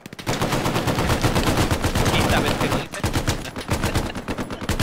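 Sustained bursts of rapid machine-gun fire in the video game Hell Let Loose crackle loudly and continuously, with a brief pause midway before the shooting resumes.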